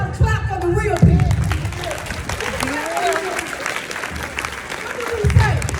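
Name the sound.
audience clapping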